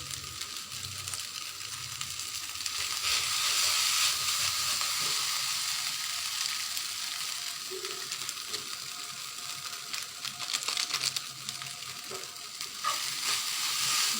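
Boiled noodles tossed with Maggi masala in a hot pan, a continuous dry sizzle with repeated scraping and clacking of the spatula against the pan, close and steady, no talking.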